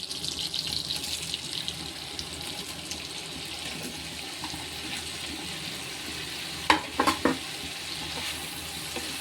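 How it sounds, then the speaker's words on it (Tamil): Cut paneer cubes dropped into melted butter in a pan, giving a soft, steady sizzle of frying with a few brief clatters of pieces landing near the end; no one speaks. "இப்போ வந்து நம்ம வெட்டி வச்சிருக்கிற பன்னீரை போட்டுருவோம்."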